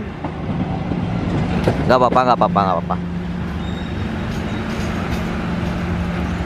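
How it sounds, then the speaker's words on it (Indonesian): Local train pulling into a station platform on a clear morning, with a continuous rumbling of rail cars and a low steady hum under the scene; a person speaks briefly in the middle. "Kereta api lokal"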